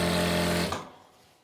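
A sewing machine runs briefly while stitching Patiala salwar fabric, a steady close motor hum lasting under a second before it winds down and cuts off.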